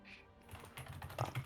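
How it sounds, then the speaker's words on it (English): Rapid keyboard typing clatters on a computer keyboard in a home tabletop-game session, a close, steady run of clicks that grows louder toward the end, with no talk over it. "Besides the typing, I haven't heard anything yet."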